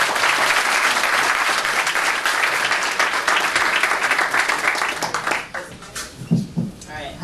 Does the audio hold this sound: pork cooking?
no